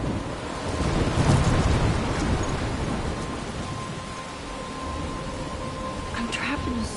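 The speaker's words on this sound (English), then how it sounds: "I'm trapped in a storm?" A storm rumbles in the video game Life is Strange, with steady rain and gusting wind and low thunder rolling beneath, a voice speaking faintly amid it.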